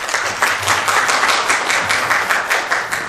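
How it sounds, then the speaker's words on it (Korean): Steady applause from a seated audience at a hanok policy forum, many hands clapping evenly and fairly close, with no voices over it, welcoming the forum's moderator. "박수로 맞이해 주시기 바랍니다."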